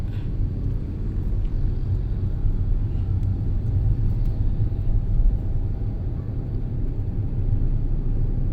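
Road traffic seen from inside a moving vehicle on a city avenue, a steady low rumble of cars driving past with continuous engine and tire noise, fairly loud and unbroken, with no clear talk.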